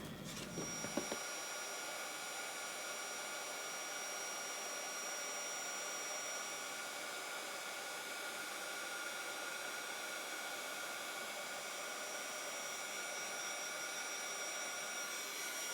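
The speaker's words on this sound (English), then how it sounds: "save our powder and we'll melt with our heat tool" A heat tool blows steadily to melt gold embossing powder over a sentiment on a handmade Valentine card, a continuous close, even whoosh after a brief tap at the start, running alone without speech.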